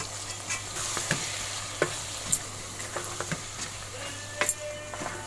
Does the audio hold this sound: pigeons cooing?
no